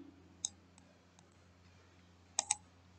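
Computer mouse clicks in a quiet room while filling in a form on a screen: a single sharp click, a few faint ticks, then a quick pair of clicks near the end, close and crisp.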